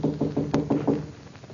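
Knocking on a laboratory door at night, six fairly even raps in a quick steady rhythm followed by quiet room tone, no talking.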